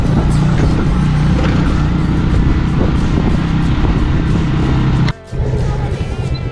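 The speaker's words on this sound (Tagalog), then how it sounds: "Tatlo sila sa isang motor." A motorcycle carrying three riders drones along loudly and close, a steady engine and road roar that briefly cuts out near the end before resuming.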